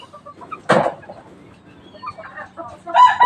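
Rhode Island Red chickens about 45 days old clucking nearby, with one loud burst early on, scattered softer clucks, and a livelier cluster of calls at the end.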